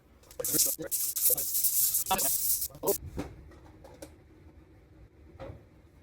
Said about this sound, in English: I'm gonna take this 80 grit sandpaper and just sand this primer down